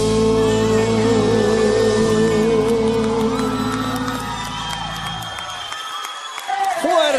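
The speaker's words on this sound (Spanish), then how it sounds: "Fuerte el aplauso" Audience applause and cheering swell at the close of a song in the final of a televised singing competition, as the jury rises to its feet; the crowd noise builds after the singing fades and grows louder at the end.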